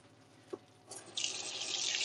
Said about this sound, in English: So a sprinkle of water on each one.